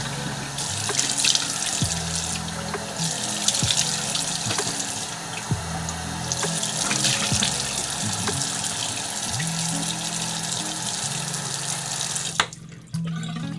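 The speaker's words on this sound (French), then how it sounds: "on va se laver le visage à l'eau froide." Cold tap water runs steadily into a sink and splashes irregularly as someone washes their face, close and continuous until it stops near the end.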